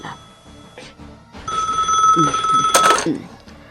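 A telephone rings in a drama scene, a bright electronic trill that starts after a few soft sounds and continues for about a second and a half, close and clear.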